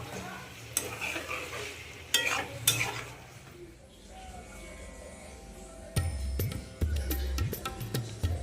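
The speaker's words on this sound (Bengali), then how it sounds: "এবার আমাদের চিকেনটা রান্না হচ্ছে" Chicken stir-frying in a pan for kosha, with spoon-against-pan scraping and sizzling throughout, and louder clattering bursts near the start and again toward the end.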